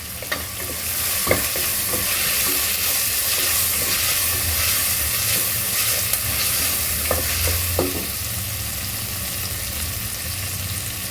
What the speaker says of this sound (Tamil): நெக்ஸ்ட் இதில் இப்போ பச்சை மிளகாய் சேர்க்க போகிறோம்.